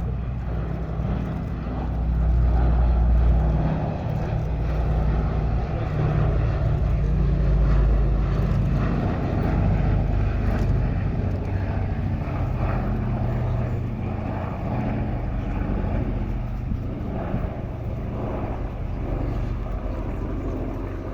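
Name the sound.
Boeing B-17 Flying Fortress propeller engines at airshow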